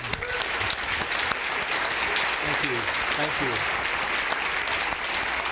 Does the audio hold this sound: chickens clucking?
no